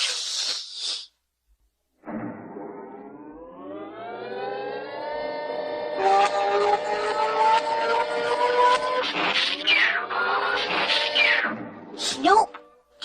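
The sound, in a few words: cat yowling after being stepped on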